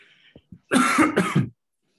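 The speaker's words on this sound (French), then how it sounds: "Excusez-moi, je vais devoir tousser." A single sharp cough bursts out close by, a short double hack after a couple of faint breaths, then silence.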